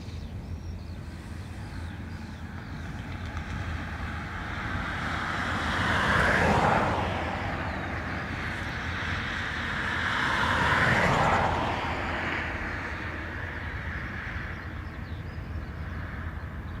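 Aircraft passing overhead near Dublin Airport on an overcast morning, a faint distant engine roar that swells twice and fades over a steady background of wind.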